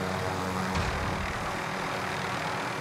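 A helicopter flies in the video game Call of Duty: Modern Warfare, giving a loud, steady rotor-and-engine roar that fills the whole stretch without a break.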